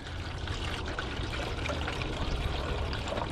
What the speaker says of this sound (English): I'm gonna fill it up about halfway with this. This is just water